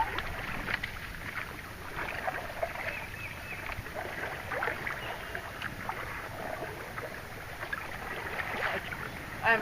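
Kayak paddling on water during an edging practice session, a soft steady wash of water and gentle paddle strokes with light wind noise, fairly quiet and continuous with no voices.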